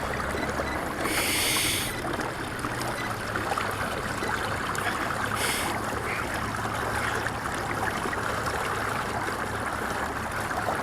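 Electric trolling motor pushing a kayak across water at higher power, a steady churning hum with water rushing and splashing along the hull, close and continuous with a couple of brief hissing bursts.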